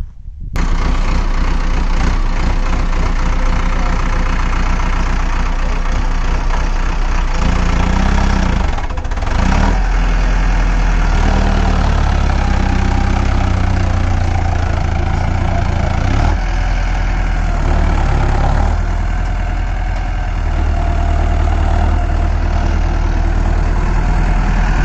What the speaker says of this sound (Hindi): ट्रैक्टर स्टार्ट करो जी